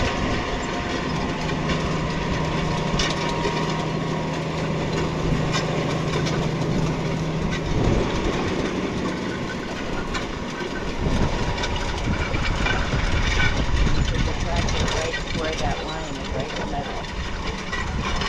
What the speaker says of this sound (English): we got the new tractor out and we are putting down soybeans